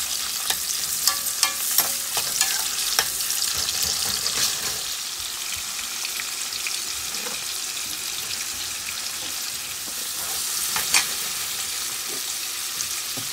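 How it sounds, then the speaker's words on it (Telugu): Onions fry in a pan with a little salt for chana masala curry, a steady crackling sizzle broken by repeated scraping and clicking stirs, close and fairly loud for the whole stretch, with no speech. "ఆనియన్స్ బాగా ఫ్రై చేసుకోవాలి కొంచెం salt వేసుకోండి తొందరగా ఫ్రై అవుతాయి"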